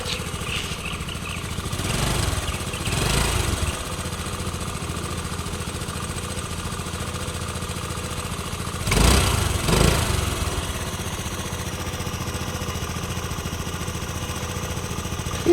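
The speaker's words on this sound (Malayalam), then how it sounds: "എഞ്ചിൻ്റെ ഭാഗമൊക്കെ നല്ല സ്മൂത്ത് ആയിട്ടുള്ള കിഡ് എഞ്ചിനാണ് നമുക്ക് വെറുതെ ഓണാക്കി വെക്കാം" A 2012 Hero Pleasure scooter engine runs at a steady, close idle, a continuous low putter with a couple of brief louder surges, with no talking.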